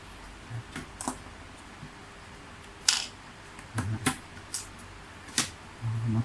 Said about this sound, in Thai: นี่งัดไปเรื่อยเปื่อยนะครับ ต้องดูด้วยว่ามีน็อตส่วนไหน